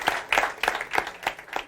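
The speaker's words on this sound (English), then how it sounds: "Could I please ask everybody to give Dr. Dominic D'Agostino a rousing applause." Audience applause at a medical research symposium stage in Melbourne, a short run of distinct, rhythmic claps fairly close by.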